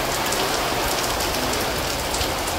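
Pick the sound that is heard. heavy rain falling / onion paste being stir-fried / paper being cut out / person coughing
heavy rain falling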